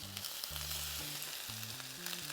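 Crab cakes sear in a hot pan with a steady, even sizzle and hiss, over quiet low background music.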